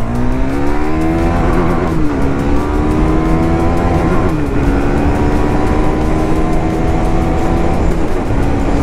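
A KTM 390 Duke motorcycle engine, 2019 model, accelerates hard through rising gears, a loud close steady drone with pitch climbing and dropping at each shift, wind noise underneath.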